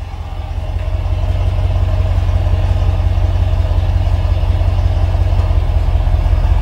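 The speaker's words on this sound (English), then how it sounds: "Now we're gonna go around to the exhaust and give you a little bit of sound." Exhaust of a 2016 Ram 2500 Lone Star pickup with the 6.4 engine idling close by: a steady, loud, deep rumble with an even low pulse and no talking.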